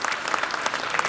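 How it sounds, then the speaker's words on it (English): Audience applauding at a China trade week event in Nairobi, Kenya: a brief, dense burst of clapping from a crowd, steady and fairly loud throughout. "I think he deserves a round of applause"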